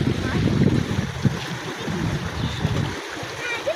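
Muddy floodwater rushes through a village after rain, a steady broadband wash of flowing water heard up close, with voices talking over it.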